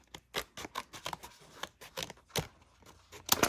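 Scissors snipping through shimmer vinyl letters, a quick series of crisp close cuts in an uneven rhythm, some sharper than others, with no talking.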